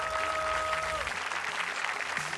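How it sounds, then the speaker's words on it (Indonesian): A studio audience at a TV show grand final claps, a dense burst of applause that holds steady and close for a couple of seconds, with a faint tone fading out early. "Tepuk tangan buat Ardo."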